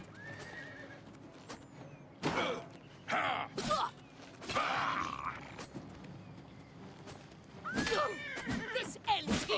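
A horse in the video game Oblivion Remastered whinnies and neighs several times in loud separate bursts, with hoof clops and creaking between them.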